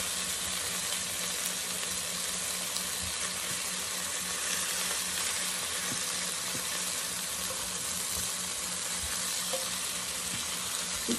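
Salisbury steak patties sizzle and fry in a hot pan, giving a dense, continuous crackling hiss from start to finish with no voices.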